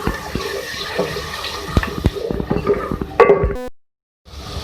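Water poured into a pan of frying masala for an egg and potato curry gives a steady rushing, hissing pour with a few metallic clinks, then cuts abruptly to silence near the end.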